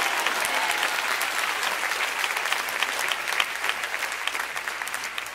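A church congregation gives a big hand clap during a sermon, with loud, dense applause from many people holding steady throughout and a faint crowd murmur underneath.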